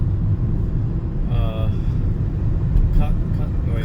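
A campervan driving on a road in Japan, with a steady low engine and road rumble throughout and a voice talking over it.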